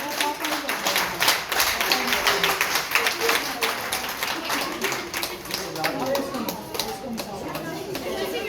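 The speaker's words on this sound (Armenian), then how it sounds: "Եվս մեկ անգամ շատ բարձր ծափար ենք մեր փոքրիկներին։" An audience claps for little children at a gathering, sustained dense applause with rapid overlapping hand claps, fairly loud and steady throughout, with chatter mixed in underneath.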